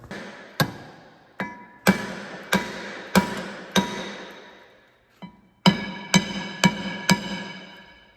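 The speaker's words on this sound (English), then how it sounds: "So I'm going to get a hammer and we'll see if we can knock this thing loose." A hammer strikes a rear brake rotor on a Honda CR-V in a series of sharp metallic blows, about a dozen hits in uneven rhythm with ringing decay after each and a short pause midway.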